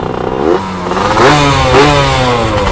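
A Suzuki Satria Hiu motorcycle engine, running on a vacuum carburetor setup, revs up hard and close, its rising whine swelling and falling through a couple of throttle blips with no voices.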